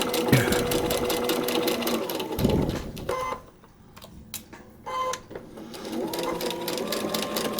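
A sewing machine stitches a paper-pieced quilt block in steady, fast mechanical runs, breaking off briefly midway before resuming at full speed.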